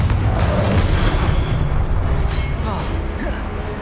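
A Confringo explosive spell detonates in Hogwarts Legacy, a loud low boom with a rolling, crackling tail that slowly decays over several seconds amid other game sounds.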